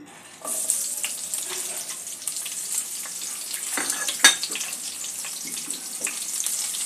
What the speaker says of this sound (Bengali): পেঁয়াজটা একটু ভালো করে ভেজে নেব প্রথমে